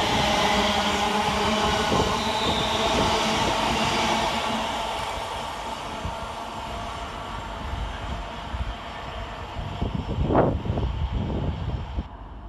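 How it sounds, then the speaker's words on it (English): West Midlands Class 350 electric unit 350-244 runs through Duddeston station toward Crewe, a loud broad rumble of wheels and motors that slowly fades, with wind buffeting the microphone and a brief rising whine near the end. "Passing through while that disappears is 350-244, running 23 minutes late with 2K44 from Birmingham New Street to Crewe"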